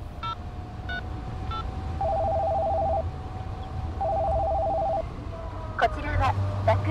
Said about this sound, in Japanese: そこの携帯電話で警察に。